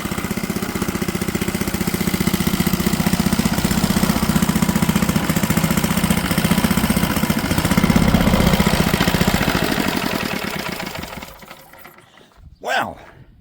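An old Wrigley three-wheeled farm truck's small engine runs loud and rattling at a steady, fast chug for about ten seconds, then cuts out, leaving a few clunks and a brief knock.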